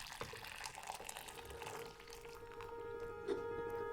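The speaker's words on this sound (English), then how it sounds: "Cover and discard the boiling water." Hot water is poured off a pot of boiled potatoes, a soft, close splashing and trickling stream that runs continuously at low volume, with a brief clink near the end.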